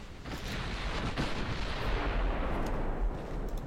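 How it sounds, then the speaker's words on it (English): Two light cruisers fire naval guns in a video game, a dense, continuous rumble of heavy booming shots layered together, loud and steady with no talk. "Two light cruisers blasting away."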